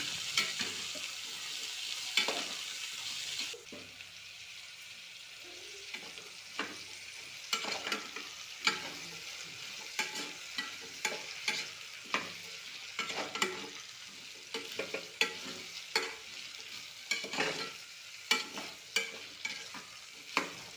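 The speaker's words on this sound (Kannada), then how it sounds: "ತರಕಾರಿಗಳನ್ನೆಲ್ಲ 2 ನಿಮಿಷ ಚೆಂದಾಗೆ ಫ್ರೈ ಮಾಡ್ಕೋಬೇಕು" Potato and carrot pieces fry in a pan while being stirred for veg pulao, a soft steady sizzle broken by repeated scraping knocks of the spoon at an irregular rhythm.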